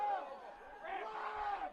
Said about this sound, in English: Crowd reacting with every pass.